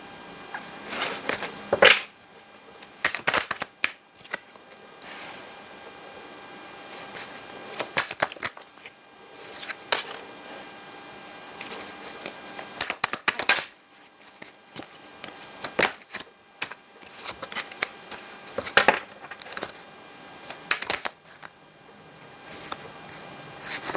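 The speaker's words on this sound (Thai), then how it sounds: "เราเรียงไพ่ใหม่นะคะ" Tarot cards shuffled and laid out by hand during a love reading, giving repeated soft papery riffles and flicks in irregular bursts, close and fairly quiet, with no talking.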